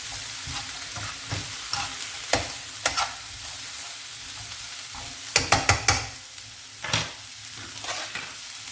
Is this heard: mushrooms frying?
yes